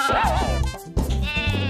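Sheep bleat from the video game Croc: Legend of the Gobbos, bleating loudly and close in a short wavering call over game music.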